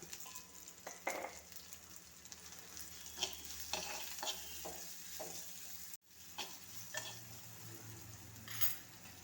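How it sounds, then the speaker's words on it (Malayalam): Onions sautéing with salt in a pan for a tomato and egg curry, a soft, continuous sizzle with repeated spatula scrapes and light utensil clinks against the pan, fairly quiet and close. "സവാള വഴറ്റുന്നതോടൊപ്പം ആവശ്യത്തിന് ഉപ്പിട്ട് കൊടുക്കാം."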